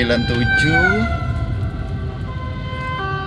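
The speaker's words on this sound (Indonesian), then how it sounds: "kita kasih itu ambulan dalam keadaan darurat" A wailing ambulance siren sweeps up and down over highway traffic noise heard from a bus, loud at first and then steadier, with a voice speaking over it.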